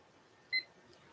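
A coffee scale's timer starts with a single short, clear electronic beep in a quiet room, brief and moderately loud against faint background hiss.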